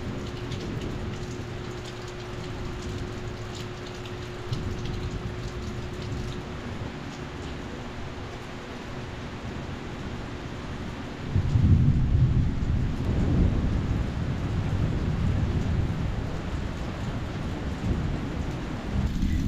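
Heavy rain pouring steadily with a low rumble of thunder, the downpour growing louder and closer partway through, with no talking.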